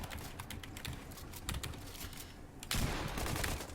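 Rapid, crackling bursts of automatic gunfire spray at an opponent in a Fortnite solo arena match. The shots come in dense clusters with a louder burst near the end, and no voices are heard.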